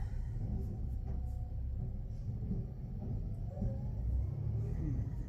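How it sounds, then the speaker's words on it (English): Construction vehicles rumble past outside, a steady low engine drone with road noise that stays fairly constant and moderately loud throughout, with no talking. "We got the construction going past"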